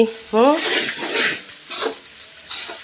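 Ingredients for tomato rice frying and being stirred in a hot pan, a loud close sizzle with a brief whistling squeak at the start and spatula scrapes, no voices.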